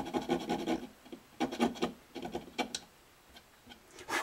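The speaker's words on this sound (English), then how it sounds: "I'll take around 800 grit, 1000 grit sandpaper, and I'll make it really look" Fine 800 to 1000 grit sandpaper rubbing over a buffalo horn saddle for a cittern, heard as several short bursts of close, dry rasping strokes separated by brief pauses.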